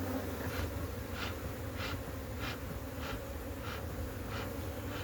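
A swarm of Africanized honeybees inside an old tomb makes a steady, dense buzzing, with fainter swells of individual bees passing close to the microphone at regular intervals. No voices can be heard.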